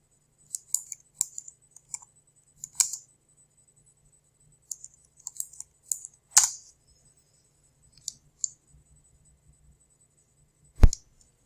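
Scattered clicks and taps on a computer keyboard while entering ad text, sparse irregular keystrokes with pauses between bursts and one sharper loud click near the end, no voice.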